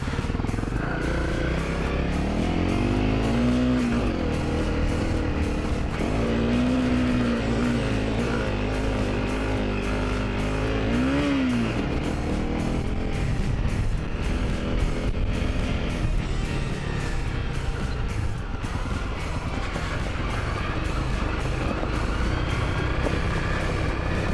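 A 2017 Honda CRF250L Rally motorcycle climbs a steep hill, its engine droning loud and steady throughout with shifting pitch under throttle, close up, with wind buffeting the rider and no talk heard.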